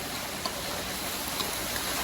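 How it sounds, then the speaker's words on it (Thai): Steady rain falls outdoors on a flood-season day, a soft, even hiss of drops with a few faint patters and no voices. "ฝนตกตกนะทุกคนบรรยากาศ ฝนช่ำๆเลยครับเนี่ย"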